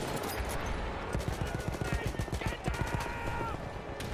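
Rapid mounted turret fire in the video game Battlefield 1, a dense and steady machine-gun rattle that runs loud and continuous for several seconds under faint talk.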